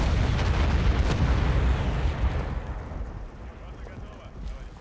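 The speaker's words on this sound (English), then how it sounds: "There'll be some artillery here." Artillery fire in a Chechnya mod battle for Grozny, with a T-72 tank nearby: a heavy, rumbling blast that fades over several seconds into a lingering low roll, loud at first and then tapering.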